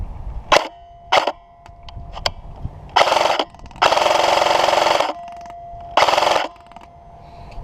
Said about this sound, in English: You can hear the sound after I stop shooting of the BBs hitting the target.